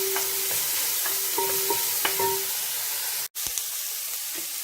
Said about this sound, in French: je fais revenir un peu les lardons, histoire de leur donner une petite couleur